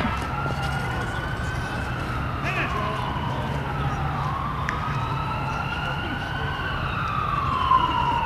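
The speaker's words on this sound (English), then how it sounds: "I hear the sirens." Wailing emergency sirens rise and fall continuously at moderate distance over a low rumble of traffic, with faint voices in the background.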